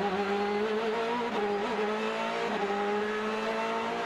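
Ferrari team race car from Extreme Speed Motorsports on a street circuit during an American Le Mans Series race in Baltimore, a loud steady high-pitched engine howl with a couple of quick gear changes as it downshifts through traffic, no talking.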